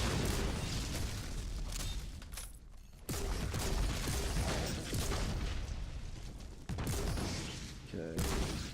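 Grenade launcher blasts in Warhammer 40K: Inquisitor – Martyrdom, a dense run of booming explosions and crackling gunfire filling the whole stretch, with short breaks between bursts.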